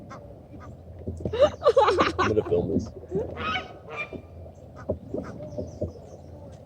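A goose on the Guadalupe River honks loudly and repeatedly at close range, harsh calls clustered in bursts, with people speaking over and between the honks.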